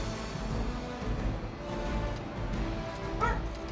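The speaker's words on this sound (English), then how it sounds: "That's my dog." A pet dog barks and yips indoors, a few sharp calls rising over a steady bed of video game music and effects from Marvel's Midnight Suns.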